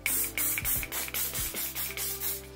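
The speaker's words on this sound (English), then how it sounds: "And then hairspray any wispy bits." Hairspray from an aerosol can is misted over wispy bits of hair pulled into a bun, in a quick series of about eight short, close hissing bursts.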